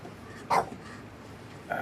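Two short barks from purebred Boston Bull Terriers, one at the start and one at the end, fairly close in a quiet room.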